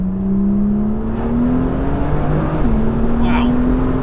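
A BMW M2 engine in manual mode drones loudly from inside the cabin as the driver drops from third to second gear, the pitch climbing then stepping with a brief rev blip, under faint background talk.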